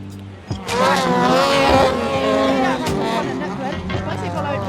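Off-road race cars, including a class 10 car passing class 3 cars, roar through a corner with engines revving and rising past, loud and continuous, under an excited commentator's voice.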